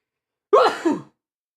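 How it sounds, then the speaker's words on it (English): A single short sneeze from a man partway through a manga review, a sharp burst followed by a second softer exhale, close and alone against silence. "Sorry, I gotta sneeze."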